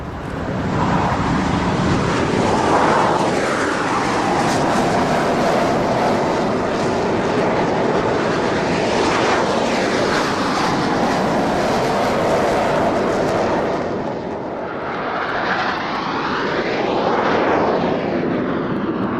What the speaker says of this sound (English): So this is the sound of the engine of the Airmax MP39